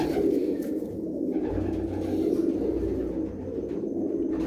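Feather-footed pigeons coo in low, steady, overlapping murmurs close by, a continuous soft drone with no talk.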